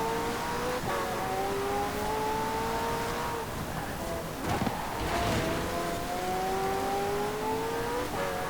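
Race car engine in Forza Horizon 4 revs quickly through gears, each climbing whine cut by a shift, steady and prominent with a brief tire squeal midway.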